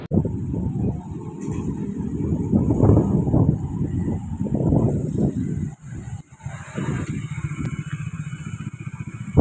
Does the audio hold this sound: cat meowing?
no